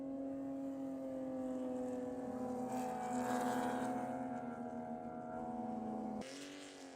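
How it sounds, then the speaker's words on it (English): Porsche Cup race car at Spring Mountain lifting light over rises with a bit of wheel spin, engine note droning and rising in pitch, held at steady revs, then dropping off abruptly near the end. "I love that little sound of the car getting light, a little bit of wheel spin at the top of these rises"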